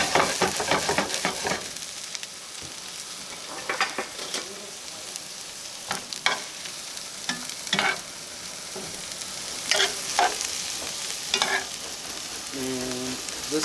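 Chopped onions, celery and fresh mushrooms sizzle and fry in a pan with steady crackling and occasional stirring scrapes, close and continuous.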